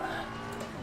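A BMW M4 race car sliding with squealing tires at Kyalami in Assetto Corsa Competizione, a brief loud burst of engine roar and skidding rubber with no talking.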